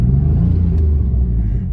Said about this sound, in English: And I'll rev it for you guys.